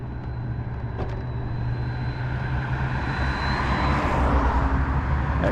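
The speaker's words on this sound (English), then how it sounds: "That car was whistling." A car passing close by with a high whistling tone, a steady rushing drone that swells as it nears, with no talking.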